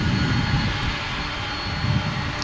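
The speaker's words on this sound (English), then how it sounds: "it's so nice that we get to be close to a classic aircraft like this, which, you know, a lot of people don't get to see in real life. The MD-11" A McDonnell Douglas MD-11 jet at DFW Airport roars close by, its engine noise steady and broad with slight swells, heard alone without talk.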